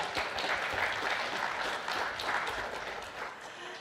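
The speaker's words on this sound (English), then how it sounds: "Put your hands together. Come on, a clap and a cheer." A conference audience applauds in a dense, sustained wash of clapping that holds steady and fades slightly at the end, with no talking over it.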